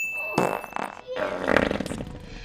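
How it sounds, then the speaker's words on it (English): A loud, close fart sound effect from the film Blade comes in two sputtering bursts across a couple of seconds, with no talk over it. "Farts equal humor, right?"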